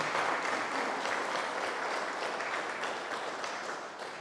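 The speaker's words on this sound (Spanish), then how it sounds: "Un aplauso también." Church congregation applauds at an Advent service, a steady wash of clapping from many hands that gradually fades toward the end.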